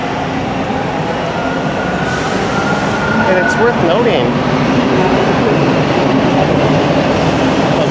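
Inside Toronto's St. George subway station, a waiting train hums and rumbles loudly and steadily with ventilation noise, while a person speaks over it.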